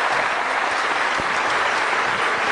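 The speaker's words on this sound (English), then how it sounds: "Ladies and gentlemen, big round of applause for Rick West." An audience at the Clinton School in 2009 applauds Rick West, a steady wash of clapping hands that stays even and sustained throughout the brief burst.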